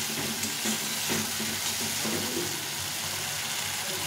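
Spice masala with tomato fries in a pan, a dense, continuous sizzle with steady stirring scrapes, close and fairly loud throughout.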